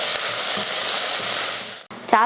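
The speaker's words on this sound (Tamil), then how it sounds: "மல்லித்தலை, கருவேப்பிலை சேர்த்துட்டு இதை வதக்கிடலாம்" Onion, mint leaves, coriander and curry leaves sautéing in hot oil for mutton salna, a loud steady sizzle and hiss close by that cuts off near the end before a brief voice starts.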